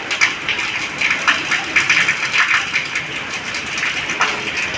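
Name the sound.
heavy continuous rain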